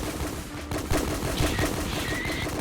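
Gunfire in a first-person shooter game with a Mosin rifle, heard as a few scattered sharp cracks at moderate distance over constant game ambience.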